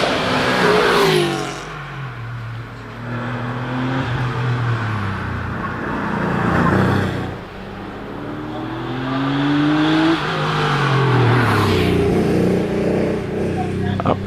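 Porsche 911 race car at the Prescott hillclimb during a British Championship event, its engine revving hard and rising in pitch through repeated accelerations, loud and close, with a commentator talking over it.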